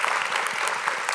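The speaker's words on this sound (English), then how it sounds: "give them another warm round of applause" Forum audience applauding at an arts and disability event, dense steady clapping from many hands, continuous and fairly loud throughout.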